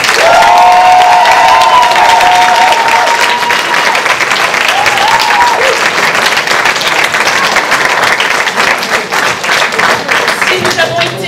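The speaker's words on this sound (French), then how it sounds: "Applaudissez-vous bien fort" Loud applause and cheering from the audience at a 2018 improv comedy show, vigorous clapping filling the room continuously, with a few shouts and whoops rising above it early on.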